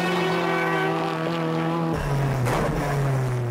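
A Mazda RX-7 FD and a Nissan Skyline R34 on a racing circuit, engines roaring loud and close with a sustained high drone that shifts pitch partway through as they accelerate.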